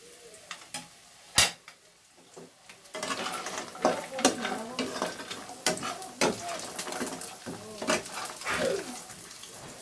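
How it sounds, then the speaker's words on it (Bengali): Lentil dumplings (bori) stirred and fried in a pan over a nigella-seed tempering: a few sharp spoon knocks early on, then a busy spread of scraping and clattering strokes over a steady sizzle, close and moderately loud. "দেখো বড়িগুলো নাড়াচাড়া করে আমি ভেজে নিলাম"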